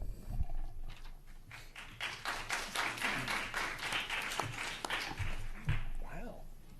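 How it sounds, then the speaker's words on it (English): At a school board public session, an audience breaks into applause for a speaker stepping up. Many hands clap at once in a steady, lively patter at moderate volume, with some voices and low thumps mixed in. "Applause before you speak is always great."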